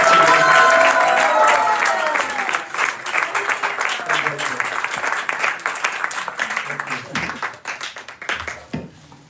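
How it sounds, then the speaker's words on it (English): Applause from the audience at an ISKCON 60th anniversary gathering, opening loud with cheering voices, then breaking into scattered individual claps that gradually die away. "One more big round of applause."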